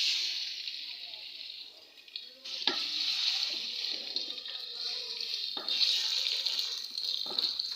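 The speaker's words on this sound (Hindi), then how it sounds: "तीन से 4 मिनट के लिए इसे हम फ्राई करेंगे, इसका कलर चेंज होने तक।" Chicken sizzles steadily in hot ghee in a pan, a continuous hiss that stays fairly loud, with a few brief clinks and stirring sounds throughout.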